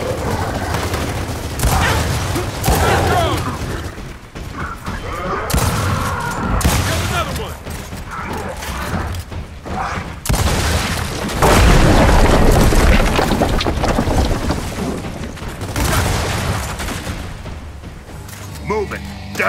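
Gears of War 4 gameplay combat: grenade blasts and heavy bursts of gunfire boom and rattle continuously through the clip, dense and loud, with voices talking intermittently underneath.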